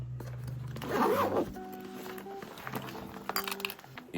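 A YKK zipper being pulled closed on an everyday-carry bag, one steady rasping zip up close, followed by light clinks and handling rustles.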